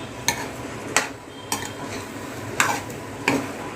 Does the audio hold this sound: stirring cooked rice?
yes